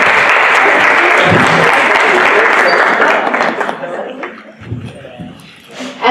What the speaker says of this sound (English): Can you please give him a warm round of applause?